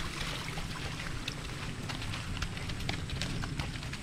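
Horse hooves clip-clop on a path while the horse hauls a heavy load of lansones fruit; faint, irregular clops sit under a loud, steady outdoor rush of noise, with no talking.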